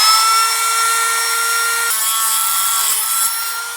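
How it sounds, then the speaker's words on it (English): A Dremel rotary tool cuts a piece off a thin metal rod of about 2.5 mm, producing a continuous high, gritty grinding whine that dips slightly in pitch partway through, close and loud throughout. "we're gonna quickly Dremel a piece off."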